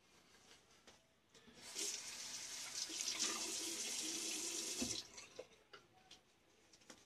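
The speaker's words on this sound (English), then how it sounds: "a lot of water. Probably too much water just now." A bathroom tap runs hard into the sink during a wet shave, a loud steady rush of water lasting a few seconds before it is turned down to a trickle.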